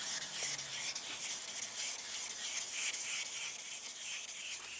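Sandpaper of 3000 grit rubs back and forth over the painted body of a Chevy Camaro IROC Z28 during wet sanding, making a soft, steady, rhythmic swishing scrub up close.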